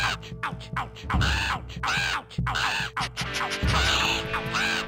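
Crows caw repeatedly in The Grinch video game, with loud, harsh, overlapping calls that come in bursts over a steady game soundtrack.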